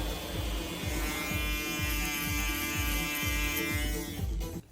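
An Andis reSURGE electric shaver runs with a steady, loud buzzing drone pulsing in a regular rhythm, close to the microphone, then cuts off abruptly at the end.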